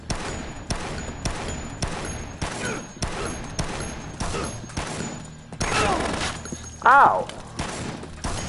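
Rapid bursts of the player's own gun in a shooter game, a regular rhythm of sharp close shots, about a dozen in a row, then a scuffle and a short pained grunt.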